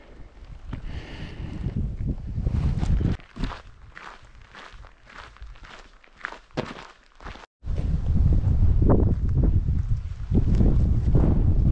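Strong gusting wind buffets the microphone in rough, roaring bursts while hiking uphill on the GR68 trail around Mont Lozère, France, with footsteps crunching along a path and a brief sudden dropout.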